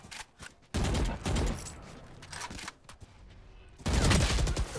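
Valorant gunfire bursts out in loud, rapid fusillades separated by short quiet gaps, with a long volley at the start, shorter rattles in the middle and another heavy burst near the end.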